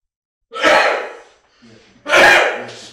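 Two loud, close, breathy bursts come from a person, a sneeze-like expulsion followed after a short pause by a second one, alone without talk.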